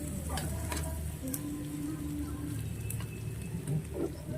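Garlic sizzles steadily in hot oil in a pan, a continuous close frying crackle with faint stirring scrapes throughout.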